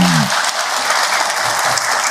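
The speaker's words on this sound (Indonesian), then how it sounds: "Tepuk tangan buat Ahilman." Loud, dense audience applause at an Islamic Ramadan lecture, steady crowd clapping close up across the whole stretch, with a brief voice trailing off at the very start.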